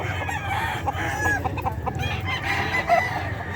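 Chickens and roosters at the Bocaue pet market in the Philippines cluck and call over one another, with crowing and busy crowd murmur filling the background throughout.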